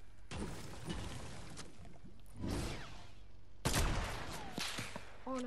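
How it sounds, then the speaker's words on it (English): Gunfire in the Fortnite video game, including sniper fire: several sharp bursts of shots and crackling fusillades at intervals, fairly loud and close, with no talk. "They just tried to snipe at me"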